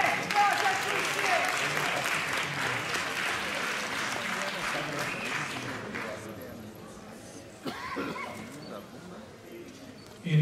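Audience applause at a bodybuilding contest's figure category, steady dense clapping that carries on for several seconds then thins and fades, with a few louder claps near the end.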